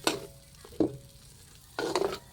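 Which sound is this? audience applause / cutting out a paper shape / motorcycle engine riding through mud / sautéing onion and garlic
sautéing onion and garlic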